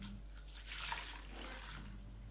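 Water pours into flour for roti canai dough. It is a soft, steady trickle, quiet and close, with a slight swell midway and no talking.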